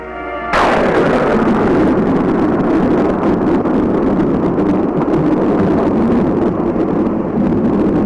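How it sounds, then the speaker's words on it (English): A sudden, massive explosion blast wave reaches trenches in a 1954 test, slamming in after a short quiet lead-in and then rolling on as a loud, sustained roar with wind-like rumble for several seconds. "The blast wave reaches the trenches."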